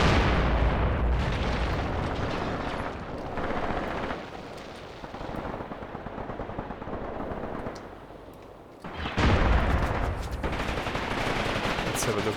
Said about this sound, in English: I believe I hear an enemy machine gun